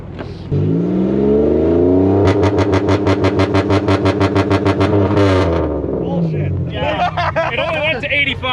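A car engine at a car meet revs hard to a high, sustained pitch with a rapid pulsing limiter bounce, then drops off as excited voices chatter nearby.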